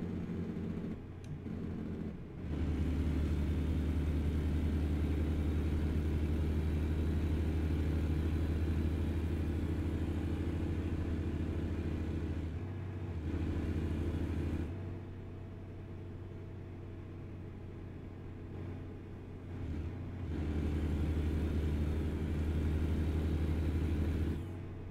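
A heavy Peterbilt-style truck in American Truck Simulator, hauling a house as a heavy load, rumbles steadily with a deep, continuous engine drone. The sound dips briefly a couple of times before the rumble returns at full strength.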